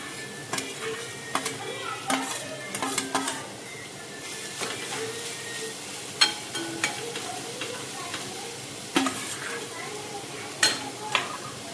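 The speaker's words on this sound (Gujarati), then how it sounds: "તે ઘી ગરમ થઈ જાય એટલે આપણે તેમાં આપણે જે આ ઝીણા ઝીણા કટિંગ કરેલું ગાજર, કેપ્સિકમ, ડુંગળી અને કોબી હતી તેને સાતળી લેવાનું છે." Chopped carrot, capsicum, onion and cabbage sautéing in ghee, a soft sizzle broken by repeated clinks and scrapes of a spoon against the pan, with a voice talking over it.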